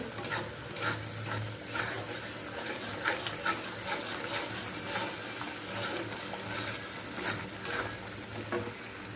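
Taro stems fry in a pan with a low, steady sizzle while a spoon scrapes and stirs through them in repeated rhythmic strokes, moderately close.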